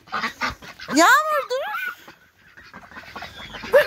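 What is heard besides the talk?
ducks quacking in a park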